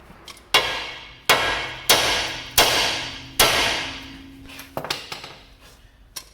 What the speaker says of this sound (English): we're going to need a hammer to break the taper on this ball joint. We just want to hit it on that bit of the hub there